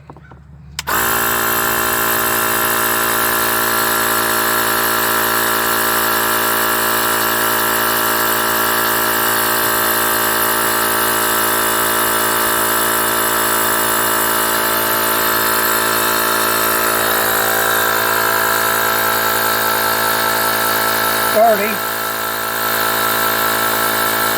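Air compressor running steadily and loud while a tire is inflated to 35 psi, a constant droning hum with one brief hiss near the end.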